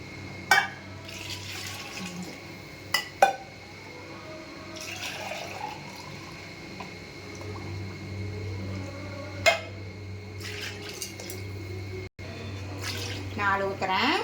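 Water is poured into a pot for chicken biryani with parboiled rice, splashing and trickling in bursts among clinks of utensils, with a person talking over it in a home kitchen.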